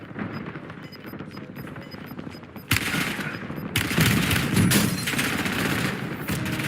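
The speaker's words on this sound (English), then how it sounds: "Taking fire!" Gunfire rattles through a military shooter video game in dense, continuous bursts, rising louder and heavier partway through and staying intense to the end.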